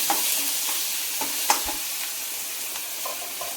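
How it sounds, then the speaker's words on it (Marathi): Crushed green chili, ginger and garlic paste sautés with pinkish-browned onion in a pan for a spicy okra and moth-bean bhaji, giving a steady close sizzle broken by occasional scraping stirs. "मिरची, आलं, लसूण याचा ठेचा केलाय तो टाकून घेऊ। याचं परतून घ्यायचं"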